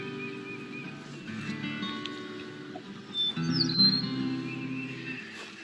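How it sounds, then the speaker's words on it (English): Birds chirp in an outdoor setting of blooming flowers, a bright run of short calls and whistled notes that swells in the middle and then settles back. "Birds chirping."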